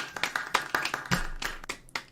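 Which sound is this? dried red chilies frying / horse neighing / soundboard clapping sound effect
soundboard clapping sound effect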